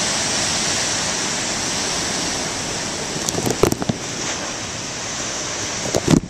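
Huge ocean waves crash on the shore as a broad, constant roar of surf, with swelling surges and a few sharper breaks near the end, heard alone without voices.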